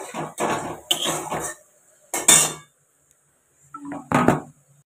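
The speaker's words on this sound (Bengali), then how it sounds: "আর এই যে আলু, বাদাম, কাঁচা লঙ্কা, এগুলো আমি একটু লাল লাল করে ভেজে নিচ্ছি" Metal pans and utensils clatter and clink in a home kitchen while potatoes, peanuts and green chilies fry, several sharp separate bursts of scraping and knocking with quiet gaps between them.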